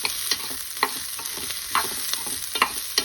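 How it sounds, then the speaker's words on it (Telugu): Onions fry in a pan for radish chutney, a continuous soft sizzle punctuated by several sharp scrapes and clinks of a spoon stirring against the pan at irregular intervals, close by with no voices. "ఉల్లిపాయ త్వరగానే వేయించుకోవాలి, అది కూడా క్రీమ్ కలర్లోకి వస్తుంది."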